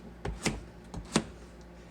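A knife chopping butternut squash into chunks on a cutting board: a handful of crisp, close thuds at an irregular pace, with nothing else heard.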